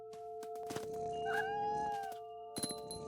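A cat meows a few times in What Remains of Edith Finch, with a drawn-out call in the middle and short chirpy cries near the end, set over a steady tonal game music bed.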